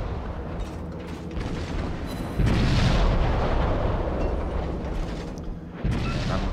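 Naval gunfire from the USS Clemson, a tier 4 destroyer in an online warship game, booms heavily and continuously, with a sharp surge of loud blasts midway and another burst near the end, dense and close.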